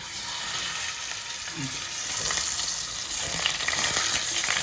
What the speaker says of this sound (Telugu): ఇప్పుడు ఎగ్స్ వేసేద్దాం.